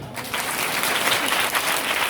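A congregation at a Hindi-language church gathering claps together, a dense, steady wash of many hands close and fairly loud, sustained without a break.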